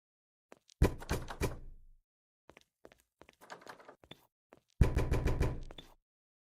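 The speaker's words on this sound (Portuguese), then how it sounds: "Tem alguém tentando arrombar aquela segunda porta." Heavy thuds and rattling bangs of someone forcing a locked door in Garry's Mod, two loud bursts of repeated blows separated by scattered quieter knocks and clatter.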